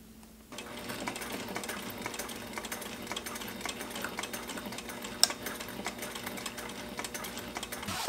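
A Sailrite sewing machine tacks down webbing straps for a bottle carrier, a rapid steady mechanical chatter starting after a brief quiet moment and running evenly, close up, with one sharp click partway through.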